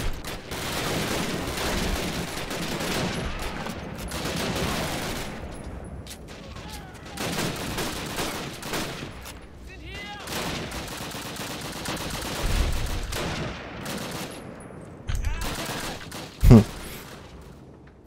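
Rapid gunfire from Call of Duty United Offensive, a World War II shooter: dense bursts of rifle and machine-gun shots, near and far, with booming impacts and one sharp loud crack near the end, no talk.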